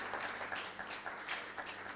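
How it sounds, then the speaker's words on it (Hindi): An audience in an auditorium claps after a performance, a fairly faint, thin applause with individual claps standing out in an uneven rhythm, brief and without talking. "या ताली बजाओ, कुछ भी नहीं करते यार।"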